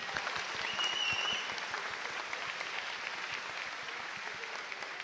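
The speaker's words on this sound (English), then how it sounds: "Let's have a round of applause" Steady, dense crowd applause at a Tokyo GT racing podium ceremony, moderately loud and continuous for about five seconds.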